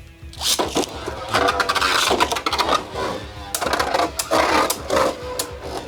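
Beyblade Burst QuadStrike tops, Ultimate Evo Valtryek and Bolt Spryzen from a Light Ignite battle set, clash in a plastic stadium: a busy, continuous rattle of hard clacks, grinding whirs and sharp collisions, close and fairly loud throughout.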